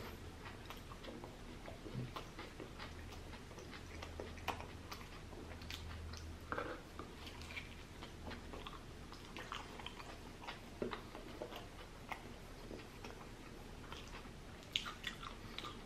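Chewing on an Arby's King's Hawaiian fish deluxe sandwich, with quiet, close mouth sounds and soft crunchy bites ticking irregularly over a faint background.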